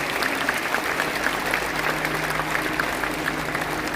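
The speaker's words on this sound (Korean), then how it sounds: "이제 큰 박수로 축하해 주시기 바랍니다." Applause from a church congregation at a pastor ordination ceremony, steady clapping from a crowd filling the whole stretch at moderate volume, with no voices rising above it.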